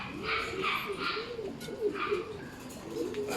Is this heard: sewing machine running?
no